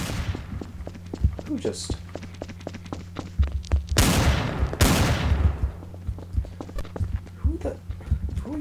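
Gunfire in a video game crackles as rapid shots and two loud bursts midway, over steady background music, while someone speaks briefly.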